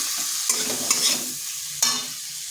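Ground cumin, coriander and chilli powder frying in a pan, a loud steady sizzle with a few quick scraping stirs of a spatula, close and without talk.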